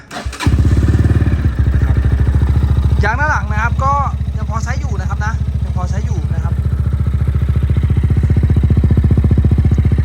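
A GPX Raptor 180 motorcycle engine kicks into life within the first second and settles into a loud, steady idle, with someone talking over it for a few seconds.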